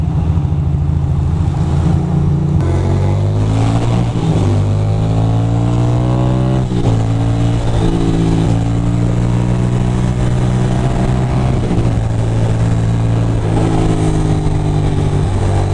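Congested New York City street traffic with cars and motorcycles, a steady loud drone of idling and revving engines close by, shifting pitch as vehicles accelerate, with no talk.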